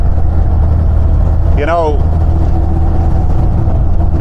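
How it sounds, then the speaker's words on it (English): A 1979 VW Bay window camper engine drones low and steady while driving, a constant rumble beneath someone speaking over it. "the engine's doing its thing. It's pulling really nicely."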